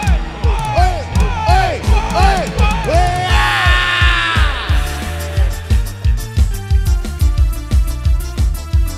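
A crowd at an Indonesian fan gathering yells together loudly and continuously under a steady rhythmic beat of pulsing music.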